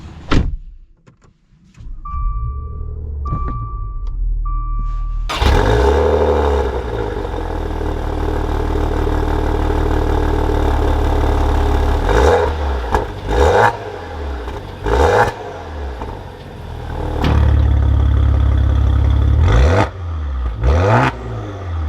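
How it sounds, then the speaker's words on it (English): A Maserati Levante GranSport sets off and drives, starting with a few short beeps and clicks, then a loud engine and road drone that rises and falls with several sharp bumps and thumps along the way. "Let's take this Levante out and see how it drives."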